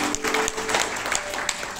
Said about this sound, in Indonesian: saya ingin kita kasih tepuk tangan buat semua yang sudah melayani sepanjang hari ini